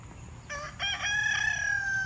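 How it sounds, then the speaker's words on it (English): A backyard hen with clipped wings, loose outside her coop in a garden, gives a run of close, loud crowing-like calls that begin after a half-second pause and rise into a sustained ringing cry, with no talk over it. "a chicken over here. She does not want to stay in the coop."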